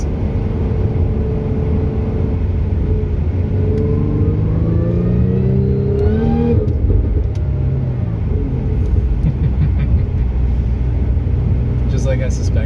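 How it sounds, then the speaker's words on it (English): A car with a Magnuson TVS 1740 supercharger rises under a light throttle dab, its deep intake note and engine rumble swelling and climbing in pitch before settling into a steady drone. "The intake noise."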